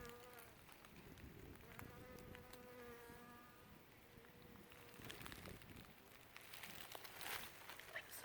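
A bee buzzes among spring beauty wildflowers in the woods, a faint, steady hum running close by for several seconds alongside soft outdoor background noise.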